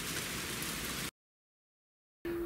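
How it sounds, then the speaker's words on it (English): Rain falls steadily on an allotment plot in summer as a dense hiss, broken by a full second of silence before the downpour sound resumes. "there was a clap of thunder and it started raining"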